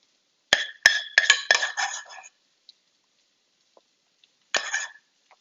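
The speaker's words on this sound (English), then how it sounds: "you can use the back of the spoon to give it a stir" A spoon stirs a creamy squash puree, giving a quick cluster of sharp clinks and scrapes against the dish, then near silence before one more short burst of clinking.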